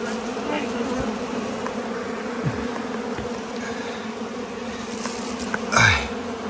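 Steady, moderate buzzing of many honey bees at a hive in a cave, a continuous hum with occasional bees zipping close by, one louder pass near the end.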